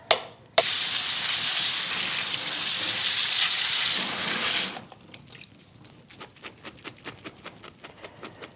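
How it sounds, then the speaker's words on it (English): Canned black beans drained and rinsed under a running kitchen tap: a steady close rush of water into a colander for several seconds, then it stops and a quick series of drips and rattling shakes follows. "take these black beans and I'm going to drain them. And I am going to rinse them"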